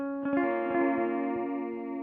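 An electric guitar chord sustains through a modulated analog delay pedal, with repeats and a gentle wavering shimmer trailing off as it fades.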